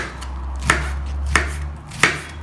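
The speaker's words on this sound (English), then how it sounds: "I'm going to do a little bit on the chopping board just for you guys" A knife chops food on a chopping board in a home kitchen, three crisp, evenly spaced knocks close by over a faint steady hum, with no talking.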